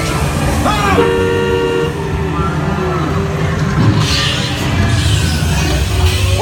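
Car horn honks ring out during the Disneyland Cars Land ride, sounding in short tonal bursts over loud ride noise and rumble, with voices talking nearby.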